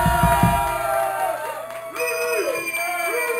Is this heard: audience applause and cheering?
yes